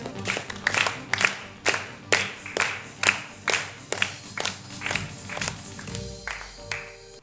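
Rhythmic group clapping from a small gathering of children and participants on a Christian TV programme, a steady series of firm, evenly spaced claps that fades out near the end.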